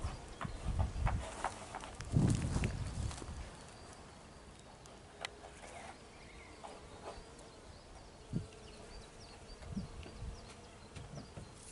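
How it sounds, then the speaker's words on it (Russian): Bees buzzing around garden plants being pollinated, a faint continuous drone with a few louder passes close by early on and scattered soft knocks. "Пчелки опыляют."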